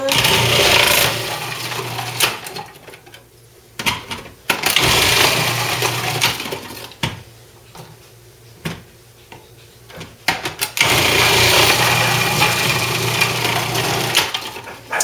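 An electric grater shredding zucchini into its grater basket makes a loud motor whir that runs steadily, drops away for a few seconds and then returns at full strength, with short clunks in between.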